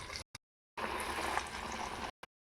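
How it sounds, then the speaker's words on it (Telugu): Potato and carrot pieces deep fry in hot oil in a kadai with a dense, steady sizzling hiss, broken by short gaps and brief bursts at the start and end. "కడాయిలో ఆయిల్ వేడైందండి. ఇప్పుడు మనం వీటిలో డీప్ ఫ్రై చేద్దాం."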